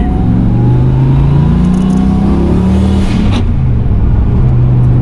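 A $250 secondhand car's engine revs and pulls hard through the gears, close and loud, with a brief shift break and a rising whine; third gear has a synchro issue.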